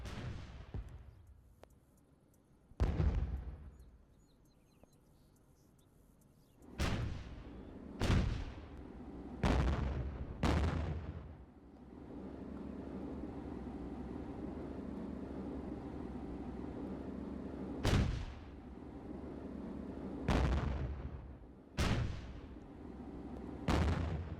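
Artillery guns fire in the World War II game Theatre of War 2, with British forces at the Kasserine Pass in Africa, 1943: about eight loud booming shots spaced unevenly, each with a rumbling tail, over steady low battle noise.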